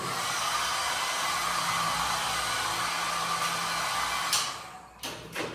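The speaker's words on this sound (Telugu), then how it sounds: "ఇది డ్రైయర్, మనం ఏమైనా హెయిర్ క్లీన్ తీసుకున్నామన్నా పనికి వస్తుంది ఇది" A hair dryer in a home laundry area blows with a steady loud whoosh, then winds down near the end with a couple of clicks.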